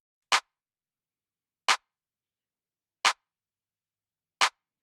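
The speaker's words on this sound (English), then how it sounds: "for the clap, I chose an 808 clap that sounds like this" Four sharp 808-style drum machine claps, evenly spaced about a second and a half apart, each crisp and bright with silence in between.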